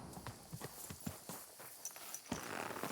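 Horse hooves clip-clop in a video game, a series of distinct hoofbeats at a walking pace, fairly close and moderately loud with no talking over them.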